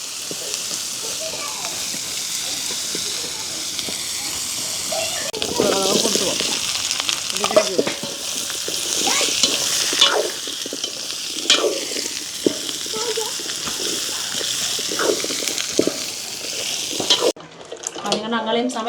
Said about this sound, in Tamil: இஞ்சால வந்து அம்மா உருளைக்கிழங்கு பிரட்டல் செய்கிறா.